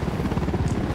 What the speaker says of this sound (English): That fucking helicopter needs to die.